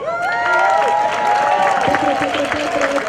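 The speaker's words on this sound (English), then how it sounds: "Give a big applause." Loud applause and cheering from an audience, with whoops and shouted voices riding over steady clapping throughout.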